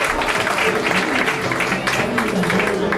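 Loud, dense applause from a crowd, steady throughout, with some voices mixed into the clapping.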